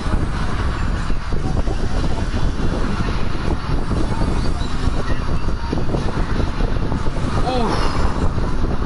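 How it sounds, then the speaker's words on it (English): Steady broadband whoosh of an electric fan running in a hot bedroom, picked up close by the microphone as a continuous even rush through the whole stretch, with no talk over it. "Sorry about the fan, you guys, and the mic."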